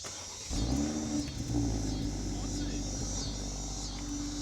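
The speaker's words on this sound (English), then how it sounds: "First time driving the X3 M40." A BMW X3 M40 pulls away and accelerates, its engine rising to a steady, loud mid-pitched drone that holds and surges slightly through the clip, heard from inside the car.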